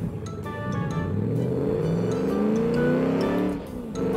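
A car engine revs hard with a deep, muscle-car-like growl that rises and falls in pitch as it climbs toward a limited 4,500 RPM, loud and close throughout with no talking over it.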